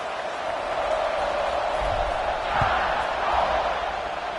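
A college football stadium crowd before kickoff in a video game makes a steady, broad murmur throughout, with a couple of dull thumps partway through.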